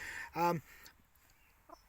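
A chicken gives one loud, close cluck, followed by quiet and a couple of fainter short clucks.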